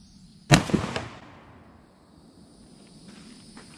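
A single sharp crack from a GForce BullPup air rifle fired at a turkey target 40 yards away on an outdoor range, loud and close, with a short ringing decay before quiet background returns.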